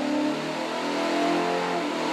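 A stroked 408 Cleveland V8 for a weekend street truck revs hard on a dyno, a loud, sustained engine roar with steady harmonic tones and no voices.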